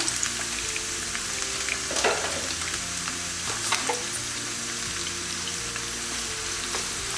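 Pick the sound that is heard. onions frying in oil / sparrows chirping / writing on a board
onions frying in oil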